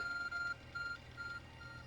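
A thin electronic beep pulses in short repeated tones from the Arc Phone in the video game Pokémon Legends: Arceus, a clear high pitch sounding a few times before fading out.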